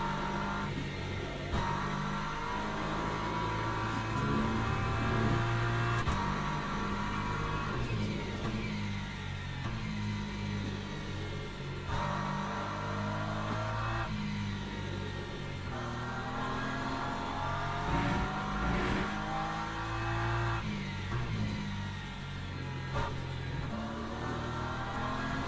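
A BMW race car engine in Le Mans Ultimate drones steadily and loud throughout, its pitch sagging and straining as it bogs down, with no voices over it.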